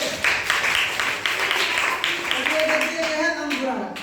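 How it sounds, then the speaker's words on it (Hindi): An audience claps together during a school-style science lesson, a dense patter of hands lasting a few seconds and then fading as a voice starts speaking. "बिल्कुल सही, ताली बजाइए।"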